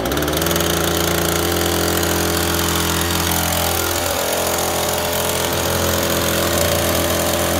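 Titan petrol chainsaw engine running loud and close, a dense, buzzing two-stroke roar with a steady rattle throughout, its pitch shifting partway as the revs change.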